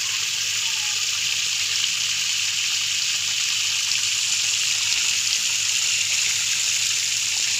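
A water pump drives a current and bubbles in a tarp fish pond, producing a steady, close hiss of bubbling, churning water that runs unbroken throughout.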